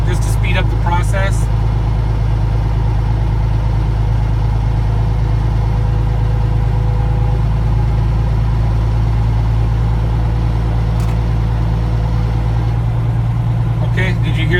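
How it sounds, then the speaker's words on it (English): A truck engine runs at raised idle with extra fuel to build air brake pressure, giving a loud, steady low rumble throughout, with brief clattering sounds near the start and end. "I'm giving the truck just a little bit more fuel just to speed up the process"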